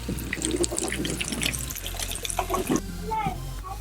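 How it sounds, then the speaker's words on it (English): A garden hose sprays water across the aluminum panels of a cargo trailer being checked for leaks, a steady hissing wash with spattering bursts that shifts as the spray moves, with a voice speaking briefly partway through. "I go down and spray it just to see what it's going to do"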